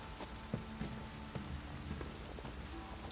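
Light rain drizzles steadily in The Witcher 3 game world, a soft continuous patter with a few faint droplet ticks, fairly quiet and alone without talk.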